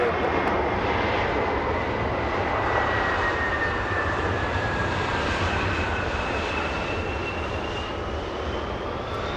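Aircraft arriving at Los Angeles International Airport, a loud continuous jet roar with a slowly falling whine, filling the whole stretch with no voices.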